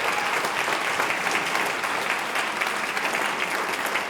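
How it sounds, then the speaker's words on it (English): Sustained applause from a gala audience for a choir's 10th anniversary performance, dense and steady clapping throughout with no voices standing out. "I think we need to give them a big round of applause."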